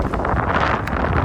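Strong wind buffets the microphone outdoors, a loud, continuous roaring rumble with gusty swells and no pause throughout.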